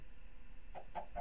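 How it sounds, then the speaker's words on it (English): A chicken clucking in the video game Minecraft, three short quick clucks near the end over a faint steady background hum. "Chicken!"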